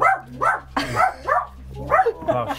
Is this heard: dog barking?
yes